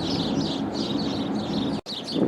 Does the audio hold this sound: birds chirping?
yes